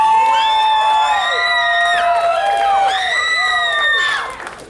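Crowd at a pro wrestling show shouts, whoops and cheers near the ring, with high excited voices rising and falling in bursts over several seconds before tapering off.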